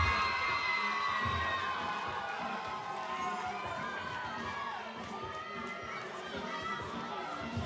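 An excited scream rises from the audience in a women's NCAA gymnastics arena, heard at a distance amid a general crowd din of cheering and chatter.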